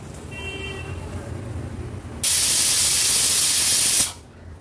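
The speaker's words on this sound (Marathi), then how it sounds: "3 शिट्ट्या आपण काढून घेतल्या आहेत" Steam bursts from a pressure cooker whistle on the stove, a sudden loud, steady hiss lasting about two seconds before cutting off sharply. A quieter kitchen background comes before and after it.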